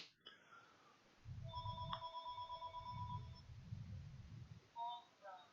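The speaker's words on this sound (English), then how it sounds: "My phone's ringing." A telephone rings in an office with a computer network, with a few electronic trilling bursts standing out faintly over low background murmur.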